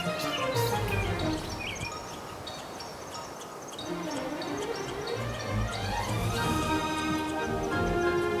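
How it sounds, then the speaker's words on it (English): Birds sing in a natural setting near a flowing river, bright chirps and layered song over a steady background rush, moderately close and continuous throughout. "I hear the singing of the birds and the flow of the river"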